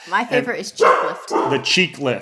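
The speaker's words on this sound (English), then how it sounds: "Sorry about the dog. They get excited when we start talking about farting." An excited dog barks in short bursts, mixed in beneath steady conversation from several people.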